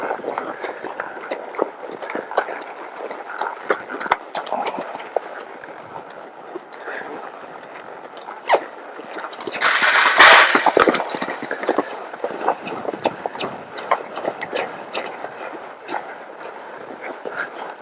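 Three horses move around a round pen, hooves thudding in an irregular clip-clop with scattered louder impacts and a brief rustling burst midway, while someone talks over them.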